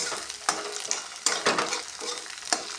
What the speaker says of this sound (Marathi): चांगलं मस्त परतून घ्यायचं बरं का